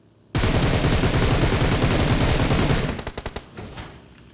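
Rapid automatic gunfire from PUBG Mobile bursts in loud and dense for about two and a half seconds, then breaks into a few spaced single shots that fade out.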